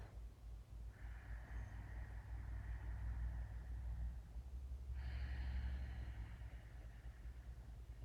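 Two slow, deep breaths during a yoga class, each a soft airy inhale or exhale lasting a few seconds, heard close over a low steady background hum.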